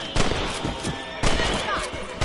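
Gunfire aimed at a rabbit in the video game Red Dead Redemption: two sharp, loud shots about a second apart, each with a short thudding tail, over game ambience and voices.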